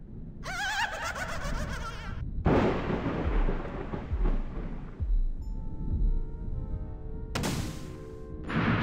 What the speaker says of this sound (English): I got struck by lightning